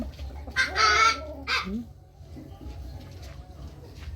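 Chickens on a farm give a short burst of loud clucking and squawking up close, then quieter scattered bird calls over a low background hum.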